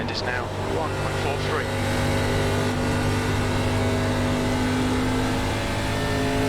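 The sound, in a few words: ARCA race car engine at Darlington in video game iRacing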